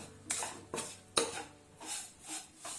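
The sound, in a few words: stirring sugar into coconut burfi mixture in a pan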